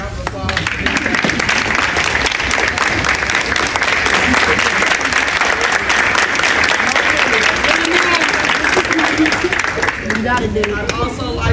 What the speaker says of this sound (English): give him a real big round of applause